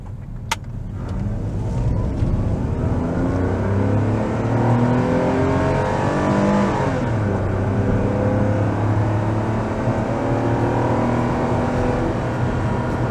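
A 2013 Daihatsu Ayla automatic small car engine revs hard and climbs steadily through the gears, loud and close, with a rising whine throughout and no talking.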